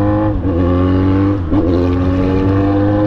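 Yamaha XJ6 motorcycle engine running loud and close, a steady throbbing idle with two brief throttle blips that rise and settle.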